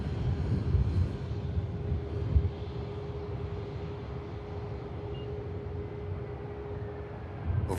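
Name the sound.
EasyJet airliner touching down on landing at Manchester Airport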